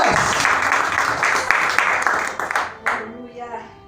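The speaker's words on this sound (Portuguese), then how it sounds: "dá uma salva de palmas para Deus" Church congregation applauding during a sermon, a full sustained round of clapping that fades out toward the end as a voice begins speaking over the tail.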